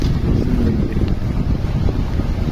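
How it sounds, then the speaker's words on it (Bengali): Sea waves stirred up by a cyclone surge against a coast where lighter ships sit offshore, giving a steady, loud wash and rumble mixed with gusting wind buffeting the microphone, with no talking. "এই যে ঘূর্ণিঝড়ের কারণে সমুদ্রের ঢেউ ঢেউ আসছে"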